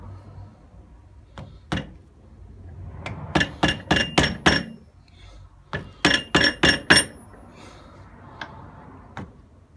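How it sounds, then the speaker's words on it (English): A hammer strikes a rubber bushing on the rear shock absorber of a Nissan Micra K11 during a custom install. It comes as sharp metallic blows, a few lone hits and then two fast bursts of about five strikes each, close and loud. "So Special hammers out."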